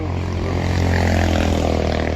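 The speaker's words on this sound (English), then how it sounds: "Don't mind the cars driving by, it's a busy intersection" A steady, loud traffic roar from cars driving by at a busy intersection fills the outdoor air during a beehive package installation, a continuous engine drone with no distinct passes.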